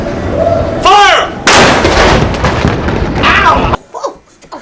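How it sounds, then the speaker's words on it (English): A 20-pound Parrott rifle cannon fires at an outdoor fair, a loud booming blast that rolls out with long rumbling reverberation, and a second heavy report follows before it drops away to quiet. "I wish those pirates would learn how to shoot that cannon that it wouldn't make so much dang noise."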